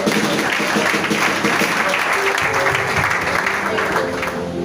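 A church congregation applauds and cheers in praise of God, a steady wash of clapping with voices calling out over it, holding fairly loud throughout before easing slightly at the end.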